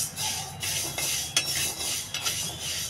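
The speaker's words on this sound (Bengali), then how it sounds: "এই যে কিছু সর্ষে নিয়েছি, সর্ষেটা একটু হালকা ভেজে নেব" Mustard seeds are lightly dry-roasted in a pan for a mango pickle, giving soft scraping and stirring sounds with faint crackles and a few small metallic clinks, close up and quiet.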